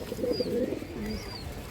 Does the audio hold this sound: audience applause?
no